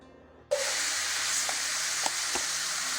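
Chanterelle mushrooms drop into hot olive oil and butter with a sudden loud hiss, then fry in a steady, even sizzle broken by a few faint pops and utensil taps. No one talks.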